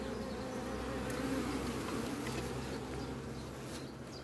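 Swarm of about 20,000 honey bees being hived, a continuous dense buzzing drone that holds steady throughout, moderately faint and without any voices.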